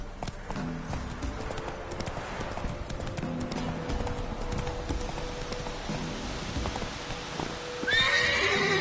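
Roach the horse in The Witcher 3 gallops with a steady, continuous run of hoofbeats, and a loud neigh rises near the end, all under game ambience.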